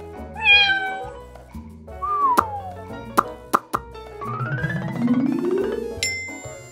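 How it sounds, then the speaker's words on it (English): A cat gives several clear, rising and falling meows, mixed with playful plops and bright chime-like tones in a cheerful children's animal-sound setting. "Cat."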